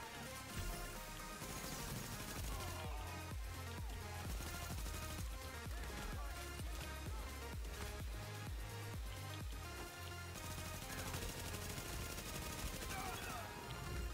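Rapid gunfire from a firefight in The Division's Dark Zone, dense bursts running nearly continuously under a steady music-like bed, loud and close throughout.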